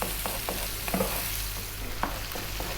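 Chopped garlic fries in olive oil with onions and olives, a soft continuous sizzle broken by occasional stirring scrapes, close and moderately quiet.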